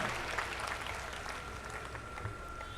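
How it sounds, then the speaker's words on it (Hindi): An audience claps to welcome a visiting swami at a religious gathering; the applause is faint but continuous for the whole short stretch, with no pauses. "जरा ताली बजा करके उनका अभिनंदन करिए"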